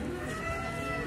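Cattle at the Grabag livestock market in Magelang make a low moo in a busy, murmuring market ambience, brief and moderately distant.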